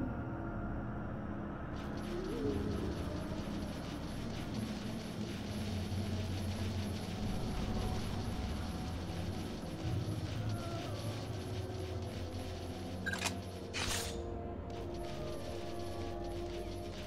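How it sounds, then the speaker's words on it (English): Helicopter arriving in God Eater Resurrection, a continuous whirring rotor and engine drone that holds steady and fairly loud throughout, with a brief sharp noise near the end. "The chopper should be here any minute."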